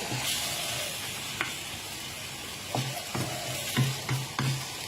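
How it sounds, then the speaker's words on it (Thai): Cubes of tofu are tossed in hot oil in a frying pan, giving a steady sizzle with a few soft scraping stirs near the end. "อันนี้คลุกเข้าไปดีกว่า ให้น้ำมันซึมเข้าในเต้าหู้สักหน่อยนึง"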